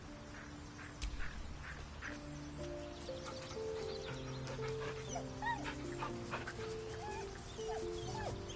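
A dog in the video game Baldur's Gate 3 makes barks and whimpering yelps against a busy game soundscape of ambient tones and scattered effects, with no talk.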